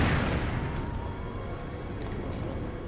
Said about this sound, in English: taking a cannon shell